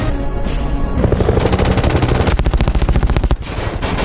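Heavy, high-caliber automatic gunfire from a film scene in Rise of the Planet of the Apes, a loud, dense string of rapid shots with booming low end, continuous and close throughout.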